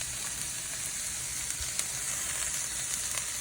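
Dry yellow rice, two cups of it, sizzles as it fries in a hot pan, giving a constant close crackling hiss with small pops and no talking.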